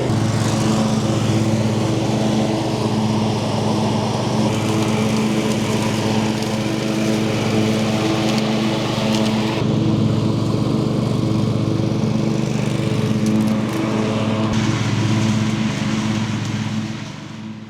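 A Cub Cadet hydrostatic ride-on lawn mower engine runs steadily and loudly with the choke out, a close, constant droning hum throughout.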